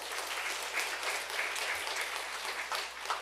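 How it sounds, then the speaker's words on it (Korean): Church congregation applauding together during a Sunday sermon, a steady sustained round of clapping lasting a few seconds with no talking over it. "그래도 박수 한번 치시죠"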